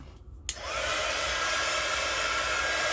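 A heat tool switches on with a click and settles into a steady, loud blowing whoosh while heating a handmade paper card, continuous with no talk.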